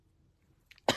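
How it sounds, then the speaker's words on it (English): A single sharp cough bursts out near the end of a quiet second, close and loud, preceded by a couple of faint soft sounds. "And apparently cough."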